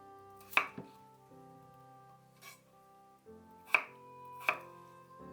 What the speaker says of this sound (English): cut into pieces 300 grams of carrots and 400 grams of firm potatoes